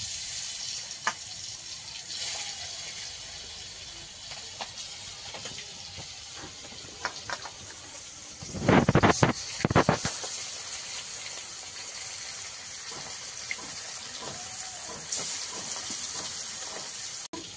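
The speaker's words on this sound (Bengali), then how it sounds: "তেলটা গরম হয়ে গেছে, এবার মাছগুলো দিয়ে দেবো" River fish rubbed with turmeric and salt frying in hot oil in a wok, a steady bright hiss throughout with a sudden louder burst of spitting midway, close up and with no one speaking.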